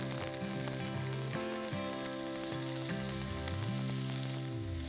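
One small diced onion fries in hot oil in a pan, an even close sizzle that runs throughout alongside steady tonal hum, with no talk.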